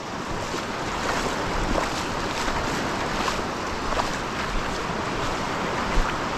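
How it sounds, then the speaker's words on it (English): Big waves surging onto the Isle of Man shore at a big tide, a loud, continuous broadband wash of surf mixed with wind buffeting the microphone, with no voices. "there's still very big waves coming in."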